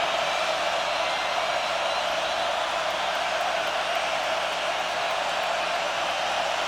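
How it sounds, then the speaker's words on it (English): Thousands of fans at the 2017 Notre Dame at Miami college football game keep up a constant, loud roar that stays level and continuous for several seconds, with no individual voices standing out. "Crowd is still here and they're still loud"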